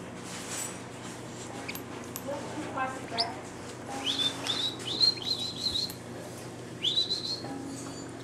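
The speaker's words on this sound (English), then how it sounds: "Look at this little bird, he's your same size." A small bird chirps in repeated short, high tweets that rise in pitch, some in quick bursts, close by over steady low background noise.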